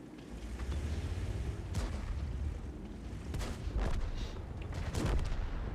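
Cannon fire from an M46 Patton tank in a video game on an arctic map, with several muffled booms over a steady engine rumble.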